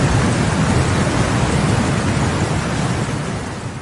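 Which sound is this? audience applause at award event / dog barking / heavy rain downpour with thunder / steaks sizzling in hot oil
heavy rain downpour with thunder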